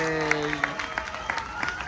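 Audience applause for the storytime volunteers on stage at a Dr. Seuss show aboard the Carnival Panorama cruise ship, a steady patter of clapping from a crowd with cheers and tonal music or voices mixed in over just under two seconds.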